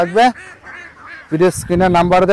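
Ducks kept in confinement at a wetland duck farm, loud close quacking and honking calls in rapid overlapping bursts, several birds calling at once.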